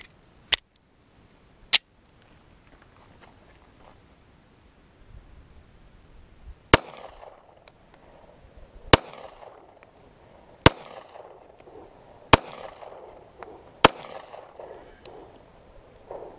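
Seven sharp, loud Glock 43 pistol shots fired at a GoPro Hero 3 camera ring out at irregular intervals outdoors, each a crisp isolated crack, the later ones trailed by a low background rumble.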